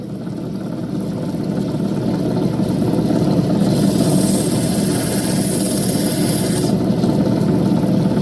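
A grinding wheel cuts a thin red glass colour bar with a continuous, dense droning whir that grows a bit rougher and brighter in the middle, steady and close with no talk.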